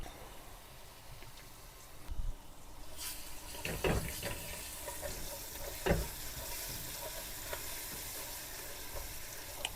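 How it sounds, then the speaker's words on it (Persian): Tomato paste sautéing with onions in oil for a Persian split pea stew, a fairly quiet sizzle with scattered scraping stirs and a couple of sharper clinks; no voices. "یه کوچولو تفت میدیم که خامی ربمون گرفته بشه"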